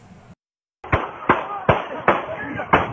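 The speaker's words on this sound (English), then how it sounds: "Shots fired during this teen fistfight recorded on cell phone video" Sharp gunshots ring out during a teen fistfight at a park basketball court, recorded on a cell phone: after a brief dropout, five loud, evenly spaced bangs crack in quick succession.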